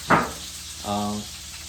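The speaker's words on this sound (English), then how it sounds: "I do two pans at the same time. One with fish and one with chicken." Fish and chicken fry in two pans at once, a burst of hissing sizzle followed by a quieter steady crackle, with a brief tonal clatter or voice in the middle; close and fairly soft.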